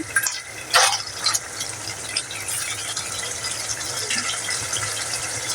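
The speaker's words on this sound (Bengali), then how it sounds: "এখন আমি পানি দিয়ে দিব" Water poured into a simmering pot of beef curry with pumpkin makes a steady, close, rushing splash that runs for several seconds after a few brief clatters at the start.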